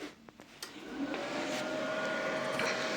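A 220-volt portable gas-shielded MIG welding machine switched on and running, giving a steady fan-like whir with a faint constant tone that swells slightly after the first second and then holds evenly.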